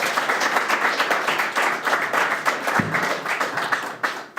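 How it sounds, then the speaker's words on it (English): Audience applause at a town committee candidates forum, steady dense clapping from a crowd filling the room for the full stretch, with a brief dip before it swells again. "Now we can say a big round of applause for our candidates"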